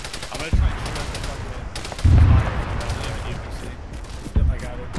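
Gunfire in the military shooter Arma: three heavy booming shots, or short bursts, land about two seconds apart over a constant battlefield rumble, with distant crackling fire between them.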